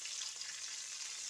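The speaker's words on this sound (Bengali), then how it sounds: "দিয়ে প্রথমে এটা একটু ভেজে নেব।" Chopped onion and green chilli frying in a pan, a steady close hiss of oil with faint crackles running unbroken for a moment.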